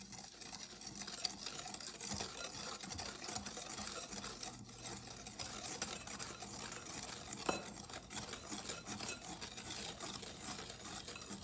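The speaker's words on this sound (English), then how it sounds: "Mix, mix, mix." A spoon stirs a mixture while sweet almond oil is added little by little, giving faint continuous scraping and swishing with occasional light clinks, quiet and close without any talk.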